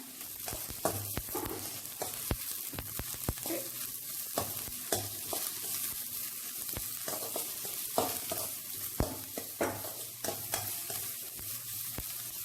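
Chopped cabbage stir-fries in a pan for fried rice, a steady sizzle broken by frequent sharp scrapes and clacks of the spatula, close and fairly loud, with no talking.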